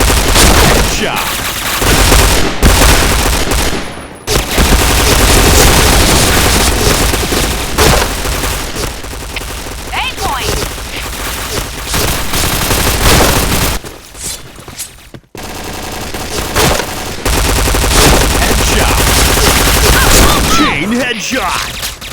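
P90 submachine gun fire in a first-person shooter game, loud rapid bursts running nearly continuously with brief pauses, mixed with game effects and voice.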